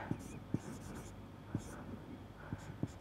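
Pen or chalk writing out a Taylor series expansion during a Newton-Raphson method lecture, with sparse tapping strokes and faint scratching alone at close range.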